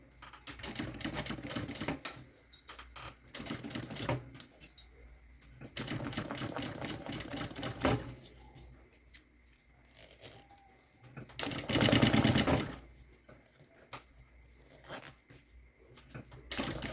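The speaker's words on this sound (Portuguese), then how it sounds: "vou costurar agora o lado de cá" A sewing machine stitches fabric for a double clean/dirty organizer in several bursts of rapid mechanical whirring, stopping and starting between bursts, with handling noises in the pauses.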